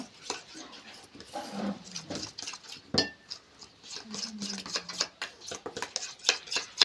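Cornflour being mixed with white oil in a bowl, heard as a run of close, irregular scraping and clinking taps of a utensil against the bowl, with one sharper knock partway through.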